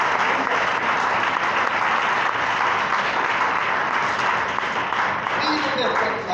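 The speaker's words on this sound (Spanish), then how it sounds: "Alguien dé un aplauso para nuestro Dios." A church congregation gives a loud, sustained round of applause that fills the room, with voices and cheering mixed through the clapping.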